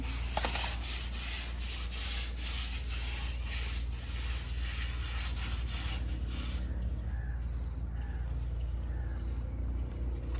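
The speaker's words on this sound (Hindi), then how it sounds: "इस तरफ से सारा ब्रश मैंने रगड़ लिया है और अब इस साइड को धो देती हूँ और दूसरी साइड से चटाई साफ करती हूँ।" A mat being scrubbed with a brush outdoors in a village, rapid rhythmic rasping strokes for several seconds that stop abruptly, leaving a softer background with faint running water.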